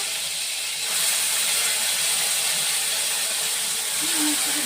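Onion paste goes into hot oil for chicken korma and sets off a loud, steady, close hiss of sizzling that swells slightly after the first second and keeps going.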